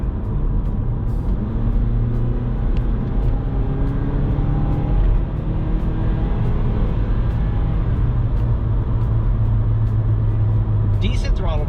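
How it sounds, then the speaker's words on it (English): A 2016 Mazda CX-5 Grand Touring merges onto a highway, with a steady loud engine and road drone heard from inside the cabin and rising engine tones as it accelerates. "So here we are, we're going to be merging onto this highway here."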